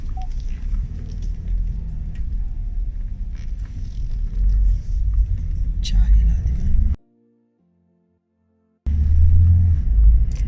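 A car turns on a busy street, a steady low engine and road rumble heard nearby under someone talking, broken by a brief silent gap.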